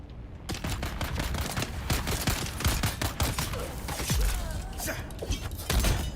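Weapon shots in the video game Dune Awakening, a string of sharp, close bangs and impacts spread across a few seconds over a busy background of in-game effects.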